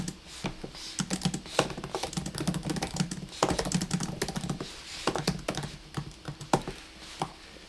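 Rapid, uneven typing on a stenography keyboard while entering steno dictionary entries, a dense run of close, crisp key strokes with short pauses, no voices.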